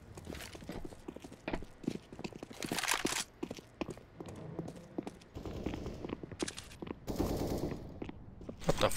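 Rapid gunfire bursts from a Counter-Strike match on FACEIT crackle loud and dense, with overlapping shots, footsteps and bursts of game noise throughout.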